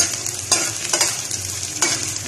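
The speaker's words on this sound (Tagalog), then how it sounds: "I-fry muna natin itong patatas natin at saka carrots." Potatoes and carrots sizzle steadily in a hot pan as a base for chicken menudo, with a few louder scraping stirs breaking through the continuous close frying hiss.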